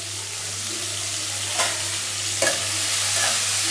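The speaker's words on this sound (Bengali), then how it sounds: "এই রসুনটা আমি একটু তেলের মধ্যে ফ্রাই করে নেব।" Garlic and green chillies sizzle in hot oil, a steady loud frying hiss with a low hum beneath and two brief stirring bumps midway, no voices.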